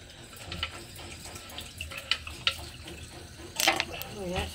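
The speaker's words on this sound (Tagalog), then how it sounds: "Ayan, sabunin natin yung lababo." Tap water running into a kitchen sink as it is washed, a steady close splash with a few clinks and scrubbing bursts, one brief louder gush near the end.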